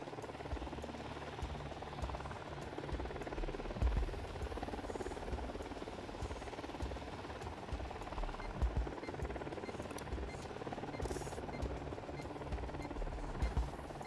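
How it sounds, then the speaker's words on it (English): Helicopters approaching in the Ghost Recon Wildlands video game, a steady low rotor drone with engine buzz that holds throughout at moderate level, with no voices. "choppers approaching."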